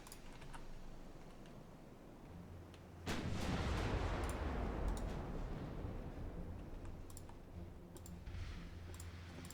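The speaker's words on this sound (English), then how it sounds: "They're shooting at us." Warships trade naval gunfire in the Ultimate Admiral Dreadnoughts game, with a heavy distant boom rolling out midway into a long rumbling decay, surrounded by faint clicks and sparse lighter reports.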